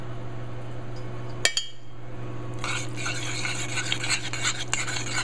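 A spoon stirs finely diced chipotle pepper into a pot of sweet-heat barbecue sauce, giving wet swishing and occasional light clinks against the pot, close and steady over a low background hum.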